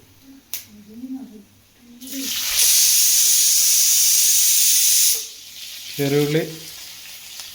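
Finely chopped shallots hit hot oil with a loud, steady sizzle that lasts a few seconds and then fades, with short bursts of speech before and after while beef dry fry is cooked.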